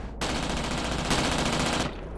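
A machine gun fires at an attack helicopter in the flight simulator DCS World, a loud continuous burst of rapid shots lasting under two seconds with no voices.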